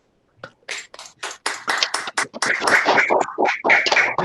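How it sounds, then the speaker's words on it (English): Scattered clapping from participants on a video call, several people applauding unevenly at once, the claps building from a few sparse taps into a dense, steady ripple that runs to the end. "let's applause for everyone that came today"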